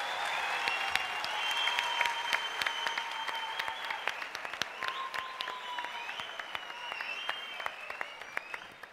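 A studio audience at a Turkish televised Popstar singing competition gives sustained applause welcoming the jury members, a dense steady wash of many hands clapping with a few sharper claps standing out, joined by faint tonal music.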